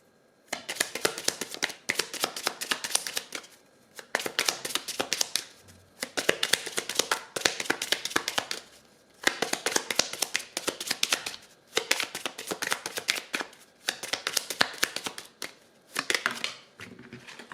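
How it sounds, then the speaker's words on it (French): Tarot cards are shuffled and handled in repeated bursts of crisp riffling and tapping, each lasting a second or two and separated by short pauses, close and fairly quiet, with no speech. "On va aller prendre 3 cartes."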